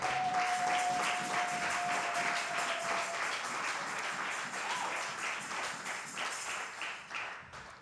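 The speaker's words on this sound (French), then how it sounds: "Est-ce qu'on peut encore acclamer pour notre Dieu?" A church congregation claps and cheers in praise of God, with dense, sustained applause that stays loud throughout and tapers slightly near the end.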